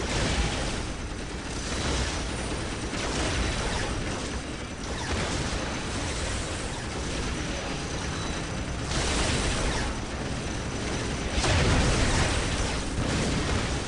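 Heavy gunfire and repeated explosions fill a Dawn of War battle on an insane-difficulty campaign mission: dense, loud booms and crackling bursts that swell in waves and barely let up.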